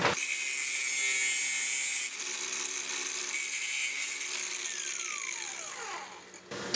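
A high-pitched power tool whines steadily as it shaves down sway bar bushing sleeves on a C3500 truck, cutting out at two seconds and resuming before winding down with a falling pitch.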